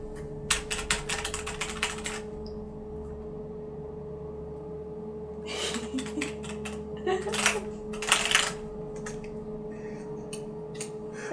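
Light keys tapped on a dusty spare computer keyboard, quick bursts of clicky presses near and moderately loud, coming in short clusters with pauses between, over a steady background hum.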